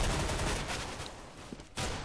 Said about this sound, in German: Fofkin schon wieder mit so einem Headshot